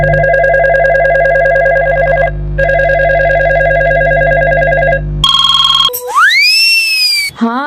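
An outgoing phone call rings back with repeated electronic ring tones in two bursts, then beeping tones and sweeping chirps follow, loud and close.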